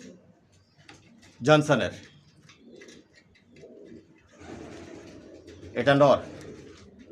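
Racer pigeons coo in two distinct bursts a few seconds apart, close by, with a person talking softly in between.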